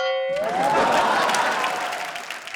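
Studio audience applause on a televised youth quiz show, a dense steady wash of clapping that swells quickly and holds, with a sustained tone from the show's music fading in under it.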